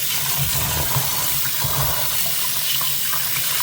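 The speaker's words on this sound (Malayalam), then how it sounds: "ഇനി അരി കഴുകി എടുക്കാം" Running water pours steadily from a tap into a vessel, with swishing and sloshing as rice is rinsed; loud, close and continuous, no speech.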